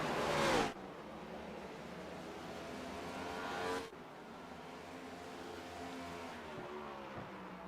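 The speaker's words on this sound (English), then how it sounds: "especially whenever the race cars go zipping by there. You just hear that sound." Stock cars in the iRacing video game zip past in quick succession at Richmond, each a sharp rising whoosh of engine noise that cuts off, followed by a steady background motor drone.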